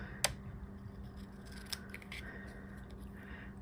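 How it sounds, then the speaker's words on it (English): Paper snips cut around a piece of cardstock in a papercraft project, giving two or three quiet, crisp snips close by in an otherwise hushed room. "I'm going to use my paper snips and cut right around this"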